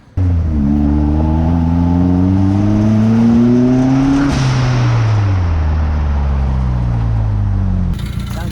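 A Honda-powered VW Bug built on an MR2 chassis revs hard at part throttle, its engine note climbing and falling in smooth harmonic sweeps, loud and close, running steadily for several seconds before cutting off abruptly.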